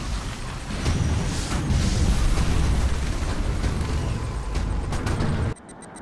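In the Command & Conquer 3 video game, an ion cannon strike explodes in a long, dense roar of rumbling blasts lasting several seconds before cutting off abruptly to quieter background sound.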